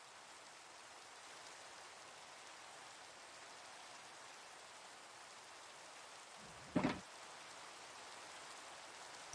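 Steady rain falls in the fantasy video game The Citadel, a soft, even hiss throughout, broken once by a short, sharper crack of thunder or impact before the quiet downpour continues.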